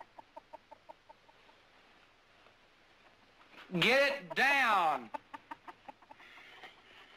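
A chicken clucks in short, evenly spaced bursts, then gives two loud drawn-out squawks before resuming steady clucking, with someone speaking briefly over it.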